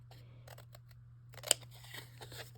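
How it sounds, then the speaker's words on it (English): Scissors cut patterned paper for a handmade card, a series of quiet crisp snips with one sharper louder cut in the middle, all close and soft over a low steady hum. "I just use my scissors for this. It's easy enough to cut straight."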